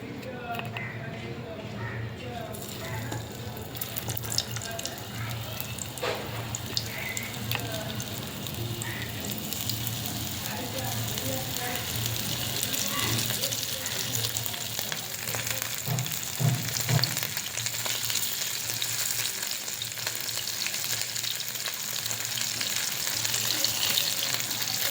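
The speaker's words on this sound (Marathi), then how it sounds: "पॅन चांगलं गरम झालेलं आहे. आता यात थोडंसं तेल घातलं आहे आणि रवा लावून" Semolina-coated fish, kingfish and mackerel, frying in a little oil in a hot pan, a continuous crackling sizzle like rain throughout, with someone talking over it.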